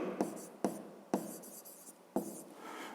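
A pen scratches on paper while someone writes out a fifth-grade math exercise by hand, in a few quick, quiet strokes with short gaps between them.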